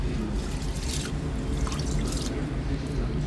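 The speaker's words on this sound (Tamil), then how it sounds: "இப்போ நான் அரிசியை நல்லா 3 முறை நல்லா தேய்ச்சி கழுவிக்கிறோம்" Rice rubbed and washed by hand in a vessel of water, a close, continuous sloshing with light splashes and drips, with no talk.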